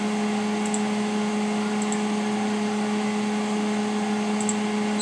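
A Novakon Torus Pro CNC mill spindle motor, run under a Mach3 spindle tune, hums at a steady pitch with a constant tonal whine and no change in speed, heard alone.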